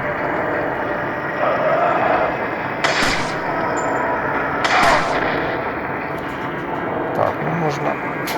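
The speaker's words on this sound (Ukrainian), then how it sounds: "я здалеку буду стріляти" Gunfire from Resident Evil 4 played on a touchscreen tablet, several sharp booming shots at irregular intervals over a constant background hum.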